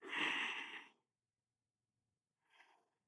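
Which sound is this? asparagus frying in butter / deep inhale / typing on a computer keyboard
deep inhale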